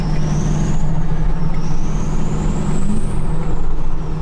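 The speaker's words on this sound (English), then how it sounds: "Let's just listen to that turbo spool though." A dually truck's turbo spools up loudly with a rising and falling whistle that climbs in pitch twice, riding over a steady deep engine drone close by.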